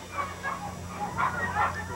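Small dogs yip and whimper at an outdoor canine sports competition, short high-pitched barks repeating at moderate distance over steady background noise and faint speech.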